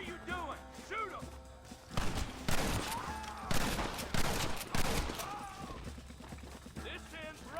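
Gunfire in the video game Red Dead Redemption: loud bursts of shots and crashes in several clusters, mixed with shouting voices and galloping hooves through a busy battle scene.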